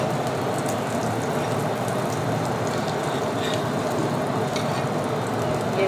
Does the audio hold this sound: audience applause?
no